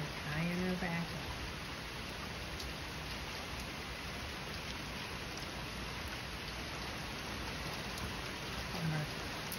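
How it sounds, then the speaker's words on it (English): Steady, dense rain pours down throughout, a constant hiss of drops on surfaces close by, with a brief voice murmuring faintly at the start. "Rain, rain, go away."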